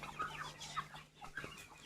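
Several guinea fowl and chickens cluck close by in rainy weather in short, overlapping calls, a busy, uneven chatter with no talking.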